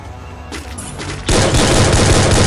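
Gunfire in the shooter game Free Fire, a few scattered shots followed by a loud, sustained burst of rapid automatic fire close up.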